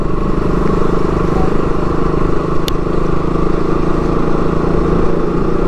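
A motorcycle rides slowly through traffic in Ajmer, its engine giving a steady, loud, close rumble without revving, with traffic noise around it and no clear speech.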